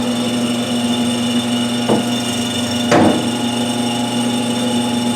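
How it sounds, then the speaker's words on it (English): A metal lathe with a bar feeder powers up and runs with a steady, loud motor hum and whine, broken by two short knocks a second apart. "So I'm going to power up the machine."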